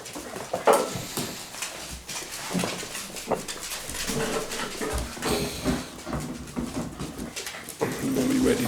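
Labrador puppies about 43 days old whimpering and yelping in short, uneven bursts close by, with a person talking over them at times.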